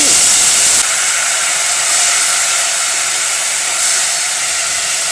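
Steady loud sizzling hiss of water poured into very hot tempering oil, starting with a sharp burst and continuing evenly throughout.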